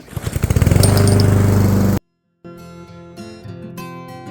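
A MechMaxx stump grinder engine sputters and catches on a pull start, loud and close, with rapid firing pulses for two seconds, a brief silence, then a steadier running drone.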